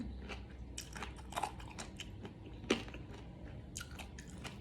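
Close, quiet crunching and biting of crisp giant jellyfish, a series of irregular crackly bites and chews with soft mouth sounds between them and no talking.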